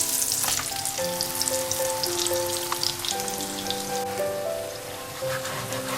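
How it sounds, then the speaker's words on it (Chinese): Oiled flatbread (you mo) fries in a pan with a loud, dense, continuous sizzle and crackle of hot oil, steady throughout with a few soft clinks, no voices. "下面开始烙饼"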